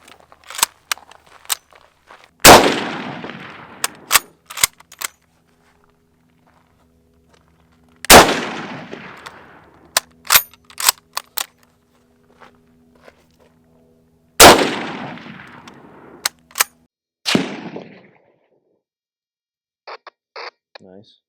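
Three sharp, loud impacts of 7.62x54R Mosin rifle bullets fired toward the listener, each a hard crack with a decaying thud, spaced several seconds apart, with scattered small clicks and rattles between shots.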